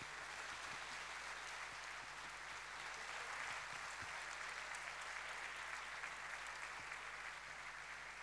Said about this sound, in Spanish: Un aplauso para Carlos Sobera.